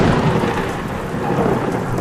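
Heavy rain pours steadily with rolling thunder rumbling throughout, a continuous loud stormy wash setting the scene of a rainy night in a Hindi horror story, with no voices.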